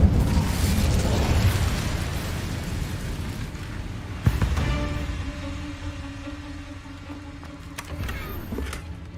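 The Incendio fire spell cast in the video game Hogwarts Legacy: a rushing burst of flame, then a sharp boom midway that trails into a ringing tone, with no voices.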